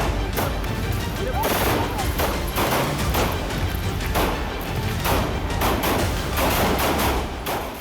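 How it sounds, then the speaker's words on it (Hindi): Rapid gunfire from the public shooting of Atiq and Ashraf, about ten rounds fired within seconds, heard as dense repeated cracks and thuds under a chaotic crowd and voices, loud and continuous throughout. "10 सेकेंड 10 राउंड फायरिंग और अतीक अशरफ का सरेआम मर्डर।"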